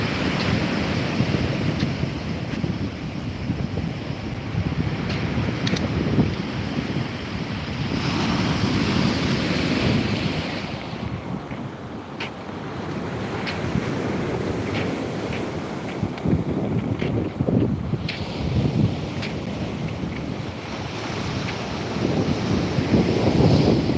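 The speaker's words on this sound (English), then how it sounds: "look at the sea coming in." Sea waves surge in against a seawall under strong wind, a continuous loud roar of surf and gusty wind buffeting the microphone, rising and falling in waves with no talk.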